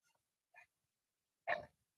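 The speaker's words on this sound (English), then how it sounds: "Oh, I've never heard him bark like that." A dog gives two faint, small yelps followed by one louder, short bark in an otherwise quiet room.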